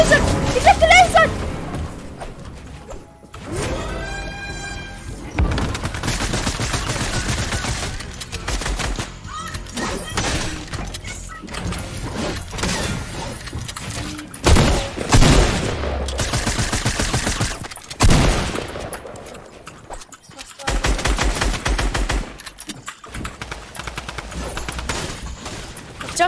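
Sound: gunfire in a video game shooter

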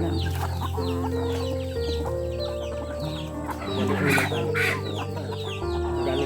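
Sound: chickens clucking

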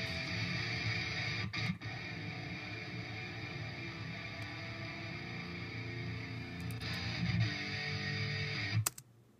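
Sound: guitar recording without EQ

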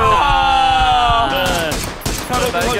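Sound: gunfire in the video game PUBG

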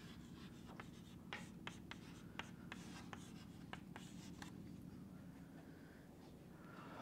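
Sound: writing a word by hand

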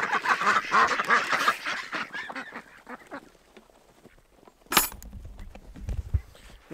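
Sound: ducks quacking

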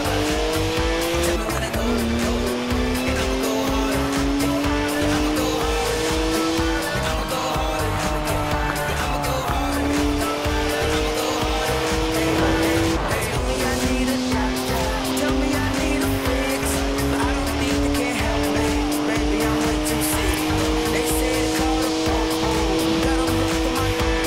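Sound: BMW car engine and tyres drifting in the video game Forza Horizon 4

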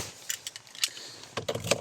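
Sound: car key being removed from a Skoda Octavia 2018

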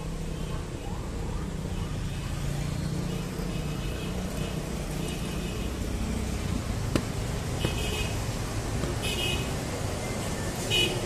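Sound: busy Jakarta city street traffic with trucks

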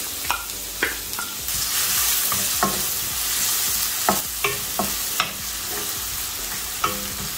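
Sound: chopped garlic and ginger frying in hot oil in a kadai

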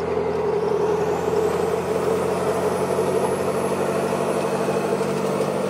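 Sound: 6.7 Cummins diesel truck with VGT turbo accelerating

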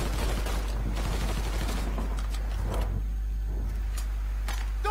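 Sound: gunfire during a car chase in the video game Mafia 3

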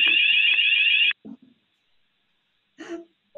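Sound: fire alarm going off

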